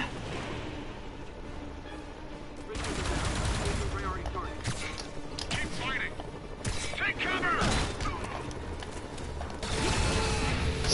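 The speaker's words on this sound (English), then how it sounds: "It's a high-speed chase with indiscriminate gunfire." Video game gunfire in Spider-Man on PS4 during a high-speed chase: rapid bursts of automatic shooting and mechanical clatter over a music and engine bed, growing busier partway through, with no voices.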